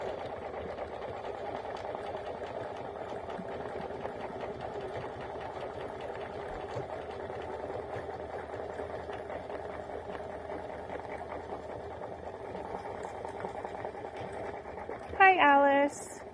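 An embroidery sewing machine stitches the base of a satin stitch with a steady, even mechanical whir that runs throughout, and a brief voice breaks in near the end.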